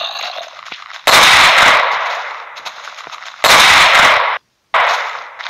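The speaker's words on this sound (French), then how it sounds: "Maintenant j'ai une 44 Magnum qui one shot." Loud 44 Magnum gunshots from a Minecraft PE gun mod, two heavy full-band blasts with long decaying tails, separated by quieter game ambience, then a third shot after a brief silent gap.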